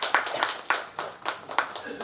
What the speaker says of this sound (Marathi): जोरदार टाळ्या वाजवून पुन्हा एकदा आपण उमाताईंचं या ठिकाणी स्वागत करूयात